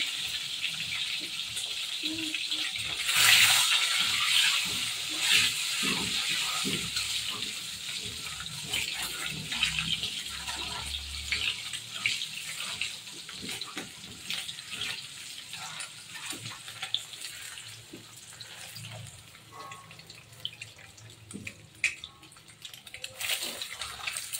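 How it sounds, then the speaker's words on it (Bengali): Salted boiled eggs fry in hot oil, giving a continuous loud sizzle and spatter that runs the whole time, with scattered clatter from the pan. "আমি ভেজে নিচ্ছি লবণ মাখিয়ে রাখা ডিমগুলো, প্রথমে ভেজে নিচ্ছি।"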